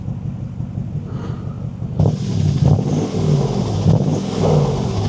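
A Porsche Cayenne diesel engine rumbles at idle, then revs sharply in several short blips that rise and fall, loud and close with no talk.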